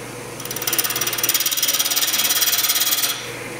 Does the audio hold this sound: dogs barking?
no